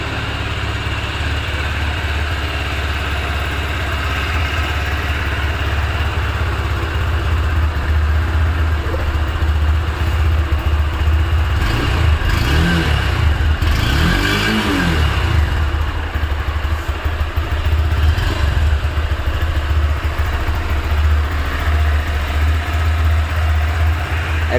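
A Honda Hornet 2.0 184cc motorcycle engine idles steadily and loudly up close, with a brief rise and fall of revs midway before returning to an even, smooth idle.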